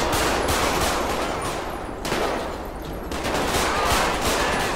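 Dense bursts of automatic gunfire in the game GTA, rapid overlapping shots rattling on loudly without a break, a brief lull near the middle before the firing picks back up.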